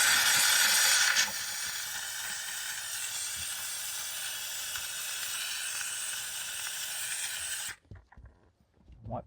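A steam cleaner hisses steadily and loudly while detailing a grimy car interior, a broad continuous spray that runs for most of the time before cutting off abruptly, leaving a few faint handling knocks.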